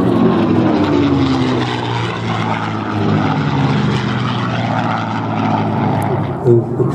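A P-51D Mustang propeller aircraft drones loudly and steadily overhead at an air show, its engine note rising and shifting as it passes, with a voice talking over it.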